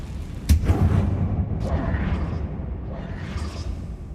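A Confringo blast spell in a Harry Potter video game goes off with a sharp, loud burst followed by a rushing whoosh and crackle, then a second, softer whooshing burst trails after.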